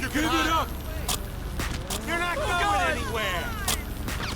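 Scattered sharp gunshots crack in GTA 5 with the LSPDFR riot police mod, a few isolated loud bangs spread across the moment while people talk excitedly over them.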